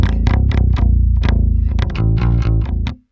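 Distorted synth bass for a metal track, made in FL Studio with its low end cut around 50 to keep clear of the kick drum, chugs loud and close in fast palm-muted rhythmic bursts before stopping.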